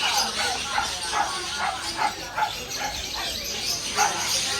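Dogs in a dog shop at a Chinese pet market give repeated short barks and yips in a busy, noisy room. People can be heard talking underneath.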